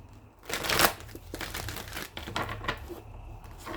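Tarot cards shuffled by hand, a run of papery riffles and crinkling rustles with one louder burst near the start, close and moderately soft, with no talking.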